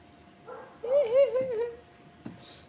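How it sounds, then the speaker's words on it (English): A neighbouring dog gives a drawn-out whining bark close by, followed by a brief sharp yelp, with quiet room tone around it. "can you hear that dog again? It's not my dog."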